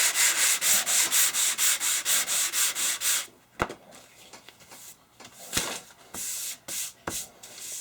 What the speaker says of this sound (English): I'm going to sand that down